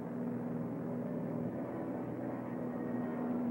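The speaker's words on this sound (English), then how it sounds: "the bombers were virtually unopposed as they flew on the deck" Low-flying WWII bombers on the 1942 Doolittle Raid sweep toward the Japanese coast, a steady, dense engine drone with a faint tonal hum that holds evenly throughout, no voices.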